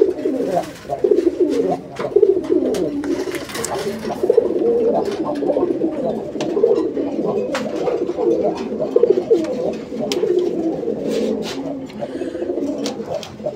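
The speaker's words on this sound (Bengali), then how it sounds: "এই কবুতরটার ডাকটা আমরা শুরুতেই আপনাদেরকে দেখাই দিলাম" A red Rajgolla pigeon cooing close up, repeated throaty coos in an ongoing rhythmic series with faint background chirps and clatter.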